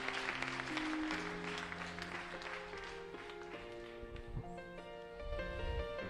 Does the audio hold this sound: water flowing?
no